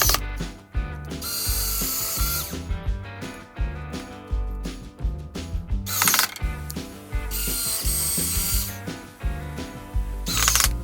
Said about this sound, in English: I'm going to put the remaining screws in all of the hairpin legs